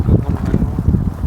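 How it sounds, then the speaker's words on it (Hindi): Strong wind sweeps through a pine forest at an Uttarakhand campsite, kicking up dust and buffeting the microphone in heavy, gusting low rumbles close by. "देखो दोस्तों कितनी ज़्यादा यहाँ पे हवा चल रही है।"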